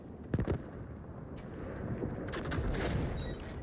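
An artillery barrage in the game Delta Force, with sharp cracking blasts in quick clusters over a rumbling background of distant explosions, fairly faint overall.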